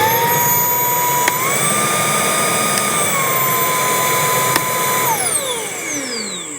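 A Milwaukee M18 Fuel compact cordless vacuum runs with a loud, steady whine, its pitch rising slightly for a moment and then dropping as the motor starts to wind down near the end.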